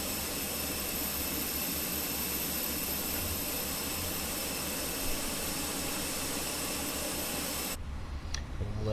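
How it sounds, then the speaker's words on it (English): Jet engines spool up in Microsoft Flight Simulator, a loud, steady whining roar that holds for several seconds and then cuts off abruptly near the end, with no talking. "Let's go ahead and get things fired up. So this is to start. Engine 1, engine 2 start."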